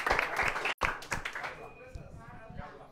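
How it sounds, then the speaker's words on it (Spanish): Crowd at a banda music event claps in brief applause, scattered hand claps beneath a voice talking over them, fading toward the end. "Un aplauso pues"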